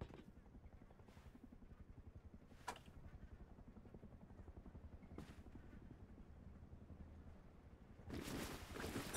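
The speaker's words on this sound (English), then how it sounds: "Comes that freaking helicopter again." A helicopter in the video game Rust drones overhead, a steady low rotor thrum running under the rest of the game sound, with sharp brief bursts breaking in and a louder rush near the end.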